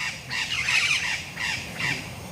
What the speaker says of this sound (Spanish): Aquí no, aquí hay pajaritos, mire.